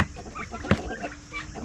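Brahma and Orpington hens clucking in a homestead coop during morning chores, soft close murmurs with one brief sharper cluck, under a steady background hum.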